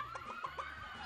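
A person imitates a hen's clucking on a Brazilian game show, several short vocal clucks in a quick rhythm over a steady low background hum.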